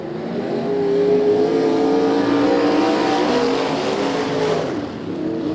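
USAC Western States midget race cars roar around the track together, a loud, sustained multi-engine drone with rising and falling revs as the pack sweeps past, with no voices.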